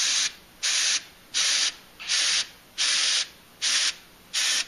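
An airbrush sprays paint for fine detail on fishing lures in seven short, even bursts of hissing air, each about half a second long with brief gaps between them, close and loud with no talk.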